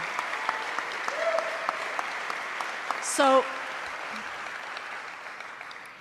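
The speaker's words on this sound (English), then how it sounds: "A round of applause for these two." A round of applause at a St. Louis press conference announcing a Major League Soccer team, steady crowd clapping under a brief spoken word and a short burst of other noise partway through.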